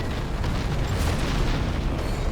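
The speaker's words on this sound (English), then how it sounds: "Another B-52, another carpet bomb" A B-52 carpet bombing in Command and Conquer: Generals Zero Hour sets off a dense, loud, unbroken roll of explosions, low rumbling booms with crackling bursts throughout.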